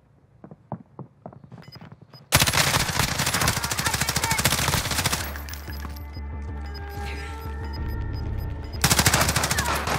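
Automatic gunfire in Call of Duty: Modern Warfare opens with a few scattered shots, then erupts into loud, sustained rapid-fire bursts that barely pause.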